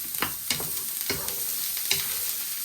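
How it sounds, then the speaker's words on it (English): Onion, garlic and pepper frying on high heat in a pan, a steady loud sizzle broken by several sharp scrapes and clatters as they are tossed and stirred, with no voices. "You want to add in your onion, garlic and pepper. You want to fry them for 3 to 5 minutes."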